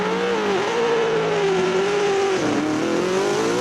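BMW M3 E92 engine revving loudly and steadily, its pitch rising and falling with a brief dip mid-way, heard alone and close throughout.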